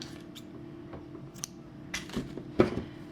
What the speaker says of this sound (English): And then I'm going to cut my yarn.